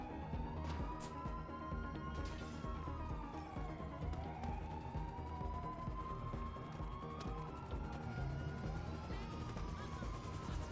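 Police sirens in the video game GTA wail in repeated rising and falling sweeps, steady and fairly faint beneath game sounds and low rumble.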